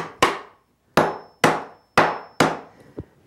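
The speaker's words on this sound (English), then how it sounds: "And then I'm just going to take a hammer" A hammer taps wooden beekeeping equipment parts together in a backyard: five sharp, evenly spaced knocks, each decaying quickly, followed by a softer final tap, close and alone without talk.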